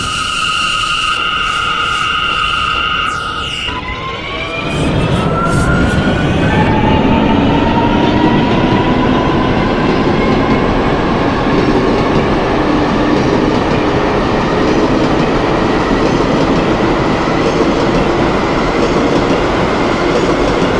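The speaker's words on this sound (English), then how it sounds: "This is a 96th Street, 2nd Avenue bound A train via the F line." An R179 subway train on the A line, running via the F line toward 96th Street–2nd Avenue in the OpenBVE simulator, pulls away after a brief quieter stretch into a loud, steady rumble of wheels on track with a rising motor whine.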